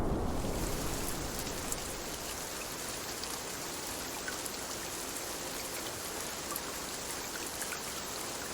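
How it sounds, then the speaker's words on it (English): Rain pouring in the video game Cloud Gardens, a dense even hiss of drops on surfaces, loud and close, beginning with a slightly stronger burst and then holding steady with no voices. "Let's see if we can get like one last bit of rain."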